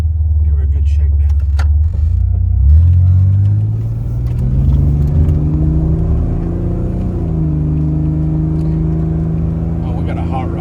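An old pickup truck on a shakedown drive, its engine rumbling loudly up close and revving, rising in pitch as it accelerates, then settling into a steady drone as it cruises.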